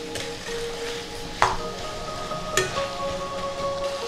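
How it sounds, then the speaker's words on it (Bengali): Spice paste for Bengali mess-style chicken stir-fried in oil, with a low steady sizzle and two sharp spoon scrapes against the pan. "মশলা কিন্তু কষে এসেছে, তেল ছেড়ে দিয়েছে। আবারও কিছুক্ষণ কষাবো।"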